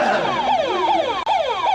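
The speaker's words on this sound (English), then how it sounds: "Oh, the ambulance is here." An ambulance siren wails nearby in a fast repeating falling sweep, loud and continuous, with no talk over it.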